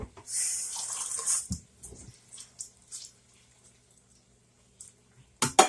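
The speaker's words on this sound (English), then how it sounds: "I may end up needing to put a little bit of water in here" Water runs and splashes briefly into a cooking pot while tuna noodles are prepared, a short hissy pour near the start followed by small clinks and quiet kitchen sounds, with another splash at the end.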